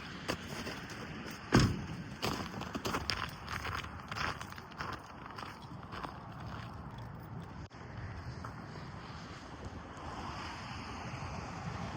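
Strong wind buffets a microphone outdoors at an airport plane-spotting spot, a steady broadband rush with gusty bursts and thumps throughout, loud and close.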